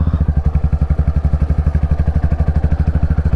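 Royal Enfield Classic 350 motorcycle pulling away, its single-cylinder engine thumping in a loud, close, rapid, even rhythm throughout.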